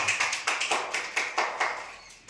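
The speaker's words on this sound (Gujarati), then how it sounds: "તાળીથી વધાવો ભાઈ" Children clap their hands in applause during a small game, a steady rhythmic series of crisp claps, roughly a dozen evenly spaced beats, loud and close without voices.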